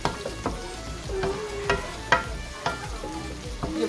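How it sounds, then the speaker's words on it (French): A pan of food frying and sizzling steadily while a utensil stirs it, with several sharp scraping knocks against the pan and a brief squeal, close and moderately loud, with no talking. "Je vais mélanger."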